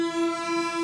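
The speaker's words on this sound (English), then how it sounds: "I have a feeling that this drone is going to sound great when sent through a distortion and a reverb" A loud, steady synthesizer drone holds one buzzy pitch, thick with harmonics and unbroken throughout.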